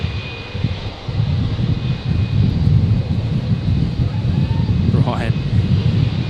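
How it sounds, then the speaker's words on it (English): Alliance Embraer airliner arriving from Canberra at Brisbane airport, a steady low engine rumble close and loud throughout, with a brief higher whine rising near the end. "So we've got an Alliance Embraer coming in here."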